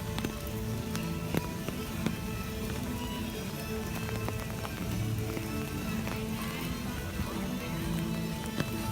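Rain keeps falling over the EPCOT theme park, a constant wash of patter punctuated by occasional distinct drops and faint clacking nearby.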